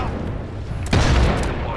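A grenade goes off in a video game as one deep, booming blast that rumbles and fades, loud and close, with a voice reacting in the background.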